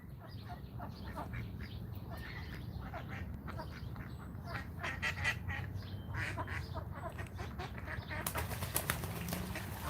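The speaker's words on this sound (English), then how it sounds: "Oh, we got a duck fight." Ducks fighting, a rapid flurry of loud overlapping quacks with flapping wings, nearby and continuous over a murmur of background noise.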